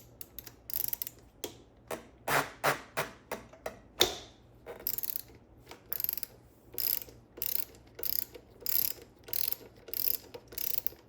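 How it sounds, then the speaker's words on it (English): Ratchet wrench loosening 14mm brake caliper bolts on a Honda CBR600RR sportbike, heard up close as repeated bursts of rapid metallic clicking, each stroke separated by brief pauses, with no talk. "all we got to do is just remove these bolts really to get started."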